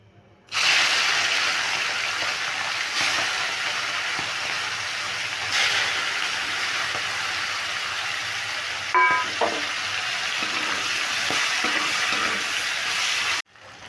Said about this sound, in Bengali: তেলটা গরম হয়ে গেছে এবার আমি চিংড়ি মাছগুলো ভেজে নিচ্ছি